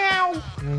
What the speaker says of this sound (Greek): Γάτα Ιάννα.